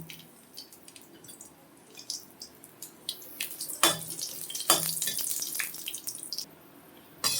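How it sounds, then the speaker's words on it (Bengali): Dried red chillies fry in mustard oil in a hot wok, giving irregular close crackles and sputtering pops that grow busier midway, with no talking. "আমি একটু সর্ষের তেল দিয়ে শুকনো লঙ্কাগুলোকে ভেজে নেব"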